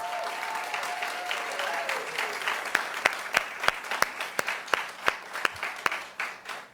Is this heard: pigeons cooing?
no